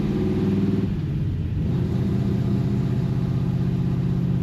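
A car engine fitted with a Holley carburetor runs steadily during a test drive, a loud continuous low rumble with a shift in pitch about a second in as the car gathers speed, with no voices.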